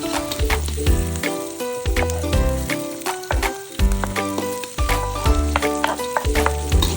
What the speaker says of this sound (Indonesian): Cabai ini akan aku tumis sebentar sampai terlihat lebih agak sedikit layu ya.